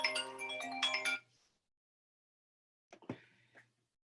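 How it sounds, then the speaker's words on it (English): A mobile phone ringtone plays a bright, tuneful melody for about a second, loud and close, then cuts off abruptly; after a pause a voice briefly reacts in the background. "I'm sorry for my phone ringing."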